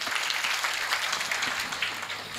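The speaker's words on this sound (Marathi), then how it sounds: "आपण जोरदार टाळ्या वाजवून महाराजांचं स्वागत करूया" An audience at a kirtan gathering claps warmly in welcome, a dense, even patter of many hands continuing steadily for a couple of seconds.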